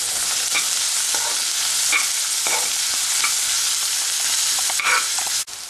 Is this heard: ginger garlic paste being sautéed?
yes